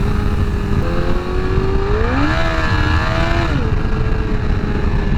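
A 2019 Honda CBR1000RR engine revs hard while spinning the back tire, a loud steady drone that climbs in pitch, holds high for about a second, then drops back, heard up close with no talk.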